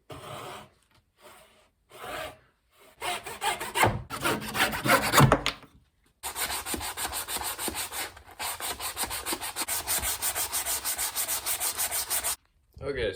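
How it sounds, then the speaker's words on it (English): A hand saw cuts three-quarters of an inch off a workbench's legs, steady back-and-forth rasping strokes close up, a few slow starting strokes giving way to a long fast rhythmic run. "meaning that I get to cut 3/4 off manually."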